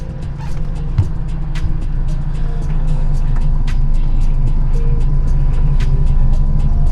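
A car with hydraulics drives with its engine running rough, a steady loud low rumble and drone that continues throughout, with faint clicks and creaks over it.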